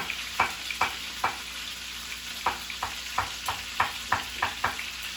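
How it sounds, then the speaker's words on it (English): Food sizzles steadily in a pan with a constant crackling hiss, punctuated by regular sharp clicks or taps, quiet and close, with no talking. "Can you hear that sizzling? It's cooking by itself."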